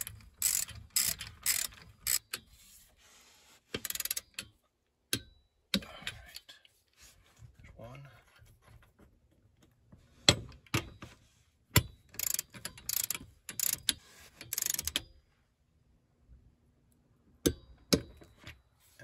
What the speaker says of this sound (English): we're gonna torque these bolts. These are a bigger bolt, they're an M12 bolt. So we torque these to 55 foot-pounds.